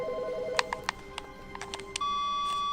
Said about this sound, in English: Hello, phone call?